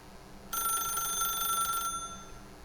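A telephone rings in The Stanley Parable: one sustained electronic ring lasting over a second, clear and steady against a quiet background, with no talking.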